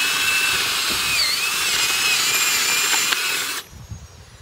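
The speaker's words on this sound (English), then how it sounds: "Now I've already drilled and loosened up this area, but I'm going to do it again." A power drill churns through garden soil to loosen it, giving a loud, steady whine with a grinding edge that runs for about three and a half seconds before it cuts off abruptly, leaving faint rustling behind.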